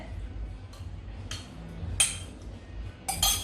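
Spoon scraping and clinking against a bowl while stirring flour and Greek yogurt, a few short, close metallic scrapes and taps over a low background hum.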